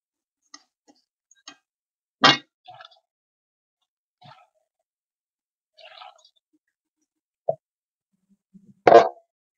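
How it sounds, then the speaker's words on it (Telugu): Peanuts dropped into a pan for roasting while making peanut chutney: sparse, light taps and plops, with a few louder clattering hits as handfuls land, separated by near silence. "ఇలా వేగాక ఇప్పుడు ఇందులో పల్లీలు వేసుకోవాలి."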